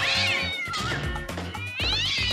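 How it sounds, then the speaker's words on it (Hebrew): A cat meows on a kibbutz, several drawn-out rising and falling cries in succession, close and loud with a strained, wailing tone. "כל הקיבוץ חתולים."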